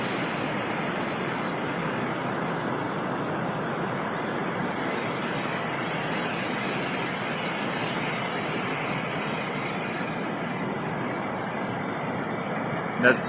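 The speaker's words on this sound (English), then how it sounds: "There's another really awesome waterfall here." Waterfall along the Annapurna trek in Nepal, a steady, full broadband rush of falling water that holds constant and close throughout, with no talk over it.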